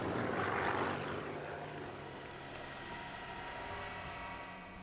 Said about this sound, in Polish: Samolot leci